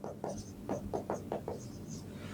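Someone writes a sentence on a board with a pen or marker, making about eight short, rhythmic scratching strokes in quick succession, faint and close in a quiet room.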